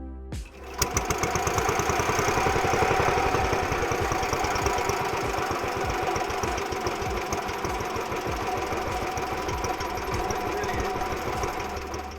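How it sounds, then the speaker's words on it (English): An old rope-pull-start engine chugs steadily with a fast, knocking rhythm, loud and close, running continuously after a brief sputter at the start. "The rope pull start is a little temperamental, but it does seem happy enough once it gets going."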